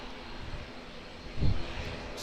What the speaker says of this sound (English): It's a Qantas Boeing 737-800.